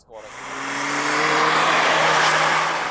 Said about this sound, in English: We accelerated quickly, so in the blink of an eye the speed reached 120 km per hour